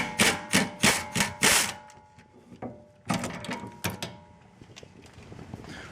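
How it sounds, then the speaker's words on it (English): Loosening the caliper bolts on a Honda's rear wheel brake: a quick burst of sharp ratcheting clicks and metallic knocks, then scattered tool clanks and a softer scraping tail, close and fairly loud with no talking. "Next, remove the two caliper bolts."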